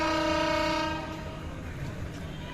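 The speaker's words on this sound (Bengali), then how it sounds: "চলে যাচ্ছে এই ট্রেন, ঢাকার উদ্দেশ্যে কিন্তু ছেড়ে যাচ্ছে ট্রেনটি।" A crowded passenger train leaving a busy Bangladeshi station for Dhaka sounds a long, loud horn that fades away, leaving a low rumble of the train and the station behind it.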